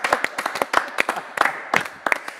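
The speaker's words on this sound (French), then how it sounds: "On peut les applaudir." A handful of people clap in a small, uneven burst of sharp, distinct hand claps, close and fairly loud, lasting a couple of seconds with no talk over it.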